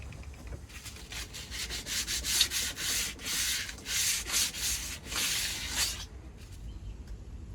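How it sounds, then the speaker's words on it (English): Steady rasping sanding on a CT41 ketch sailing boat, rhythmic back-and-forth strokes with a bright gritty hiss, close and fairly quiet, stopping near the end. "Sanding."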